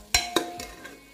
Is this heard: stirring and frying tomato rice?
yes